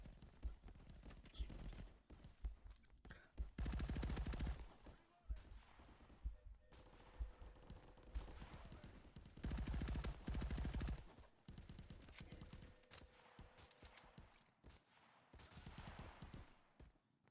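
SMG gunfire in a VR shooter video game, repeated rattling bursts of automatic fire, the loudest around four and ten seconds, heard amid game noise with a few scattered shots in between.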